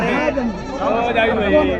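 A goat bleats in wavering, drawn-out cries close by, amid the murmur of a busy crowd at the Saykheda goat market.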